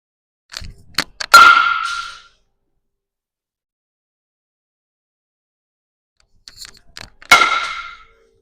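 Two-piece composite baseball bat striking balls during a break-in session, two sharp cracking hits about six seconds apart, each preceded by small clicks and leaving a brief ringing tail, loud and close with silence between.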